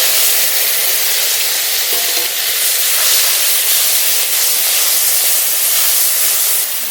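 Whole cumin, bay leaf and green chilli paste hit hot mustard oil as a tempering, giving a loud, unbroken sizzling hiss that runs the whole time with no talking.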